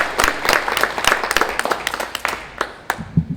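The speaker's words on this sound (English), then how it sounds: "Can we give her a big round of applause" Crowd at a Motsepe Foundation International Women's Day event applauds a guest speaker, the Group CEO of the JSE; many hands clap in a lively burst with distinct sharp claps, thinning toward the end.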